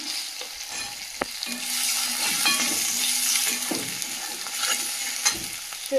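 Tomato frying in a pan with salt and coriander powder, a soft continuous sizzle with occasional spatula taps and scrapes, close and moderately loud.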